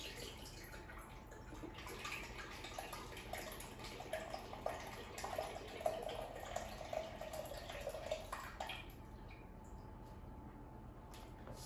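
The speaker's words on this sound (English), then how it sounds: "pouring the liquid egg whites in a bowl" Liquid egg whites pour from a carton into a bowl with a faint, soft, continuous trickle lasting several seconds.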